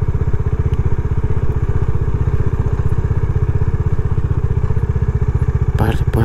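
A motorcycle engine idles close by with a steady, rapid putter, loud and constant, with a brief clatter near the end.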